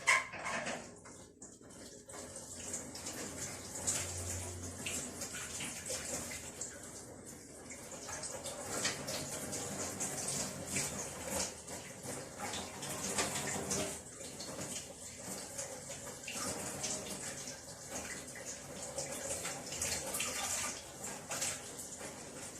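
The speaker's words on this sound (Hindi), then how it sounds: "आवाज आ रही है ना, पानी चलने की आवाज आ रही है ना" Coriander is rinsed under running tap water, giving a steady broadband hiss and splash that continues throughout, fairly quiet and close, with no talking.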